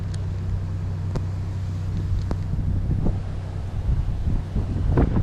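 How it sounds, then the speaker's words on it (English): Wind roars steadily against the microphone with a low rumble, occasional knocks and gusts rising toward the end; no one speaks. "It's so windy, it's really making it awkward to fish as well."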